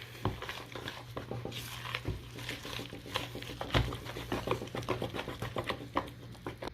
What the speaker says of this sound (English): now we'll just mix that all together